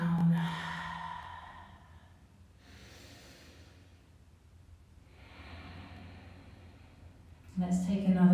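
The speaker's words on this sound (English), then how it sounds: "we start to slow the breath down." Slow, deep breaths during a family yoga session: long, soft inhales and exhales drawn out over several seconds, fairly close and moderately quiet.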